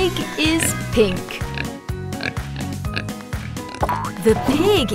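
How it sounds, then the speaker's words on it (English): Pig oinking, repeated cartoonish grunts in quick succession alongside a voice and bright music, loud and busy throughout. "The pig is jumping in the mud."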